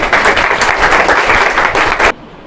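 Loud, dense audience applause from a crowd gathered at a live MPSC quiz event in a Washim study hall, a steady burst of many hands clapping that cuts off abruptly near the end.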